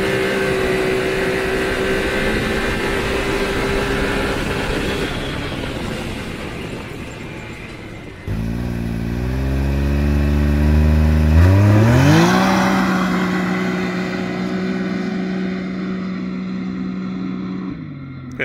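A Can-Am Maverick X3 Turbo base model idles with a steady drone before being stalled up to a buzzing high rev and then launching, the engine pitch climbing smoothly through the gears, loud and close throughout.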